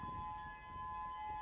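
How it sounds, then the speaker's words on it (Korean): A civil defense siren sounding from a hilltop during a fire in Hawaii, a steady sustained wail heard from a distance, faint but continuous, with no talk. "이제 사이렌 소리 들리는 거 보십니까?"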